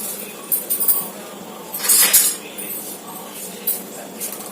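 Spoon clinking against a bowl while eggs are mixed for an omelette, a few quick metallic taps and clinks in short bursts, close and fairly loud.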